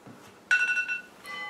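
A mobile phone alarm goes off suddenly with bright, steady electronic tones that hold for about half a second, fade, then return more faintly near the end; no talking over it.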